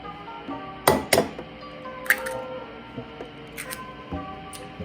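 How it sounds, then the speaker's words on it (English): Eggs being beaten in a bowl, with a few sharp clinks of utensil on bowl and soft whisking sounds between them, close and fairly quiet, no speech. "While the butter is heating up, I like to mix the eggs, scramble them a bit"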